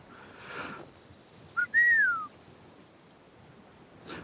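A single rising-then-falling calling whistle from a person, short and clear, preceded by a brief chirp-like onset, set against a quiet room with faint background sounds.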